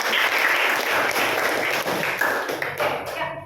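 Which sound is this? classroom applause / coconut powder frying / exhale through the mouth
classroom applause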